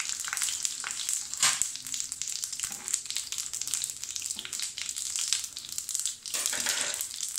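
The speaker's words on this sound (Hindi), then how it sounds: "बघार के लिए मैंने 3 टेबलस्पून ऑयल लिया है, और इसमें हम सबसे पहले डालेंगे ज़ीरा।" Cumin seeds and dried red chili sizzling in about three tablespoons of hot oil for a tempering, a steady close crackle with occasional louder pops and spoon stirs.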